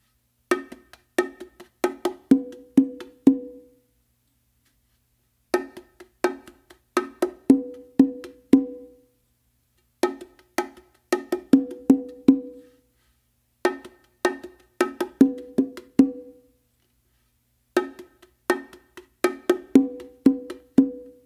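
Bongos played in a ghost groove, open tones on the hembra with soft ghost taps on the macho, crisp close hand strikes in repeating phrases of about a dozen hits separated by short pauses.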